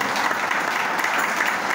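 Church congregation applauding during a worship service, a brief, dense and steady burst of many hands clapping together at close range.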